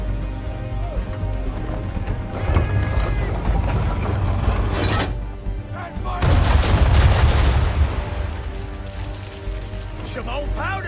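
Ship cannons booming in the video game Assassin's Creed 3, with heavy blasts and rumbling explosions over a dense battle din, loud and continuous, with a brief lull midway before a louder barrage.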